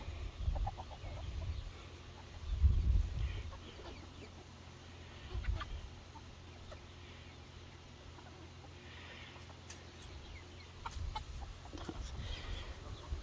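Backyard chickens, hens and roosters, cluck in short bursts, a louder flurry early on and scattered calls later, fairly close against a quiet outdoor background.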